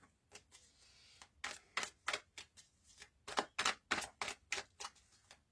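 Tarot cards being shuffled for a reading: a quiet, uneven series of crisp riffling snaps and taps, some in quick clusters, with no talking.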